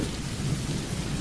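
Steady rain with a low thunder rumble fills the short stretch, a dense, even wash of sound with no voices.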